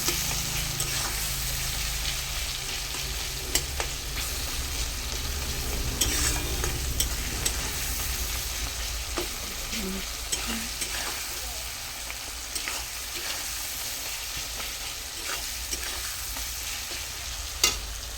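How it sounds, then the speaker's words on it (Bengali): Turmeric powder frying in a pan, a steady close sizzle and crackle of hot oil with occasional scraping stirs and small ticks, no talking. "হলুদ গুঁড়ো দিয়ে দিলাম। ভেজে নেব।"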